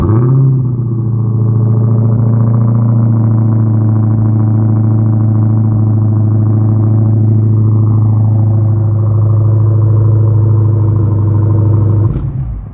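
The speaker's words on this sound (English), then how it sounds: "So let's hear the Challenger fire up." A Dodge Challenger Hellcat fires up with a quick rising burst, then settles into a loud, steady, deep engine drone close by that holds for several seconds before cutting off abruptly at the end.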